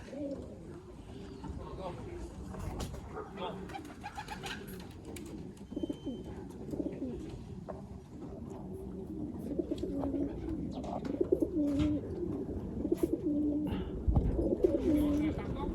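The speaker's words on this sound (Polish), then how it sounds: "ale cały czas lądują gołębie" Racing pigeons coo softly and repeatedly amid rustling and occasional wing flutters as they land at a loft, with a person talking quietly over the birds.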